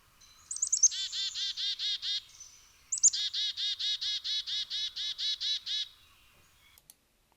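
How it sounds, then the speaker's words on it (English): Chickadee communication call, a flock identity call: two bursts of rapid, evenly spaced high notes, the first short and the second longer, close and clear against a quiet background. "This is the chickadee call."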